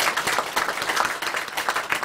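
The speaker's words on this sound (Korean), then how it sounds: "오늘 박사님에게 박수 한번 올려주시기 바랍니다" An audience at a church seminar service gives a short burst of applause, steady dense clapping from a crowd in a hall.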